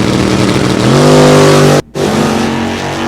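A fire-engine-red 1984 Chevy S10 pickup with a 406 small-block V8 roars loudly at a drag strip, its engine revving and holding a steady high pitch, cutting out sharply for a moment, then surging back.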